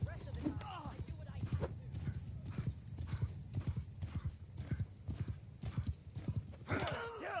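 Horse hooves clip-clopping at a gallop in the video game Mount & Blade Bannerlord, a rapid rhythmic thudding run with a neigh near the end, close and steady, mixed with game sound and a voice.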